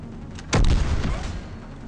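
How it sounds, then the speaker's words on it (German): Gunfire in the video game Mass Effect 3: a single loud, close shot or burst with a booming low-end tail that rings out and fades over about a second. "Ich wollte deinen Freund erschießen, aber ist Wayne."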